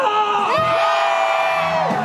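Stadium crowd at an NC Dinos baseball game letting out a long, loud collective shout, a steady roar of whoops and yells that holds for most of the moment before swelling again at the end.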